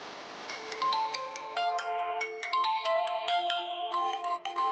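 A mobile phone ringtone plays a bright electronic melody of quick repeating notes, clear and close for several seconds with no voices over it.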